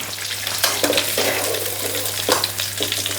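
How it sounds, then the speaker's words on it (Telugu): Fenugreek leaves frying in oil for a Telangana dried fish curry, giving a steady close sizzle with stirring scrapes and a few louder bursts, with no talk. "మెంతి కూర గోలాలి నూనెలో, గోలితే చేదు రాదు."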